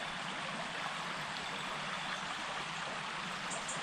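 Fast-flowing river water rushes steadily at a summer chub-fishing swim, a dense, unbroken roar that fills the whole stretch with no voices.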